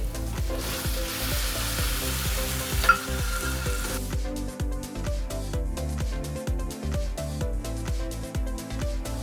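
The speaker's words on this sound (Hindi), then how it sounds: "तो अब इस समय हम डाल देंगे टमाटर की प्यूरी" Tomato puree hits onions frying in a pan with a loud hiss, then a steady crackling sizzle carries on under rhythmic stirring scrapes of the spoon.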